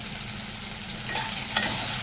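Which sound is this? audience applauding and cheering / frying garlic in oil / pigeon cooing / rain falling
frying garlic in oil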